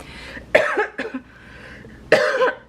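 Three sharp coughs, close and loud: two in quick succession, then a pause and a final harsher cough.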